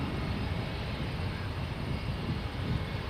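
A Jetstar airliner departing for Auckland produces a steady, moderately distant broadband jet rumble that holds evenly, heard alone.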